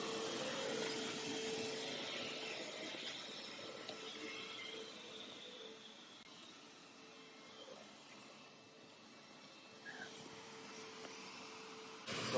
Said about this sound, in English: we can just keep driving, and the vacuum will run, and it'll clean up the rest of our water